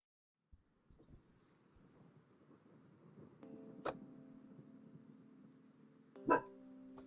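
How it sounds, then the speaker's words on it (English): A dog gives a single short bark near the end, after a long stretch of quiet indoor background and a few soft knocks. "no barking."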